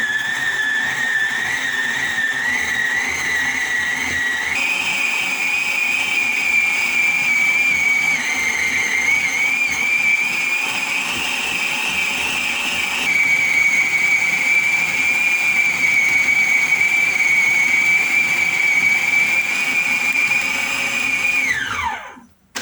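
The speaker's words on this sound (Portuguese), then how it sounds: "O gancho ele pega todas as partes da massa e vai misturando a massa" An Arno stand mixer runs steadily with a dough hook, kneading heavy, slightly sticky bread dough: a continuous close motor whine and churning hum for over twenty seconds, shifting pitch slightly as the load changes, then cutting off abruptly at the end.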